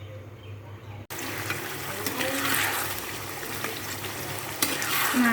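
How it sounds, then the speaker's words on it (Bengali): Chicken for biryani sizzles loudly as it is sautéed and stirred in a pan, starting abruptly and continuing as a steady frying hiss with scraping stirs. "এখন চিকেনটা একটু কষাবো"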